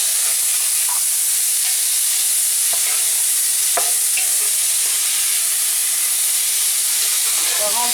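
Smoked bacon pieces and shallots frying in a pan for a Liège salad, a bright hissing sizzle with a few spoon clinks and stirring noises.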